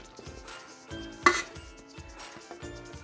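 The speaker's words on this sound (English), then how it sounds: "we are going to add our cooked pasta" Drained, cooked pasta goes into a pan for mac and cheese with ham, giving soft scraping and rustling, a gentle sizzle, and one sharp clink of metal on the pan in the middle.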